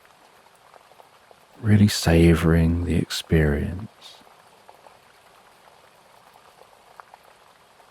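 Steady rain patters softly and evenly throughout, with a calm voice speaking briefly over it near the middle before the rain continues alone.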